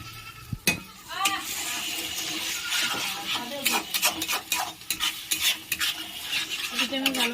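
Three eggs being stirred and sautéed in a pan for dhaba-style egg tarka, giving a steady close sizzle broken by repeated scraping strokes of a spoon against the pan.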